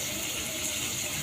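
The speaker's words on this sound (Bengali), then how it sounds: "একটুখানি জল দিয়ে দিই," Splash of water poured into a pan of ginger, onion, garlic and tomato spice paste, a brief steady gush close up with no voices.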